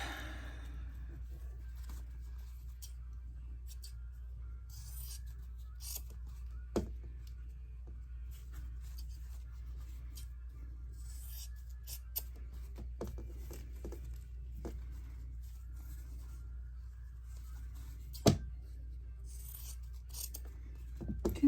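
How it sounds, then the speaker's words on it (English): Scissors trimming freshly sewn and pressed fabric quilt block pieces, a handful of sharp, faint snips scattered over a quiet low hum, no talking. "Okay, let's trim these up."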